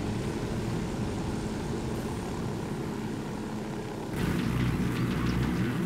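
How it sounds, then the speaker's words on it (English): Stealth helicopter in Ghost Recon Wildlands, a steady loud rotor and engine drone that holds throughout and grows fuller and rougher near the end. "Nice stealth helicopter here."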